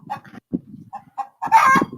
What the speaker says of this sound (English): We have a chicken song going on.